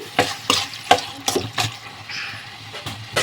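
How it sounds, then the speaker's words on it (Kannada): A spoon stirs chicken liver masala in a pan, producing a series of sharp scraping clacks at an uneven rhythm, close and fairly loud, with a soft wet sizzle between strokes. "ಕ್ಲೀನಾಗಿ ಮಿಕ್ಸ್ ಮಾಡ್ಕೋಬೇಕು."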